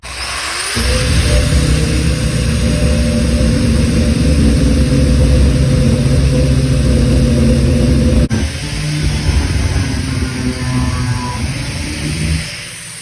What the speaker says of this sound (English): Mark it, get the grinder, chop it off